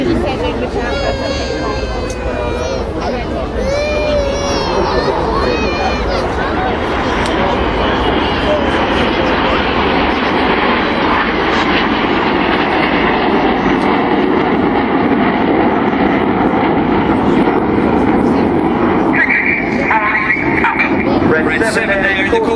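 Red Arrows jets flying a corkscrew at the 2015 Sunderland International Airshow, a loud continuous roar of jet engines that swells and shifts as the aircraft pass, heard under steady commentary from a man.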